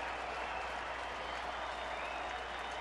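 A baseball crowd applauds and cheers pitcher Ian Kennedy at an Arizona home game against Philadelphia, a steady wash of clapping from a large stadium audience across the whole stretch with no pauses.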